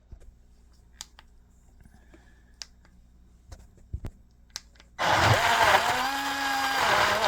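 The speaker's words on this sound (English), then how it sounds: "we're using this super small portable Ninja blender, but it's surprisingly effective at blending these seeds" A small portable Ninja blender starts up abruptly after a few scattered clicks and taps, then whirs loudly and steadily with a grinding motor drone as it blends seeds.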